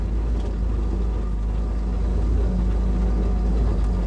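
A Willys Jeep engine laboring off-road gives a continuous low rumble with a rough, throbbing texture, steady and fairly close, with no voices.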